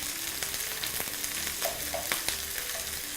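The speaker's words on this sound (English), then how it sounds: "You see they're browning very well." Ingredients brown in a frying pan for linguine mare e monte, a steady soft sizzle with scattered light taps and clinks from the pan.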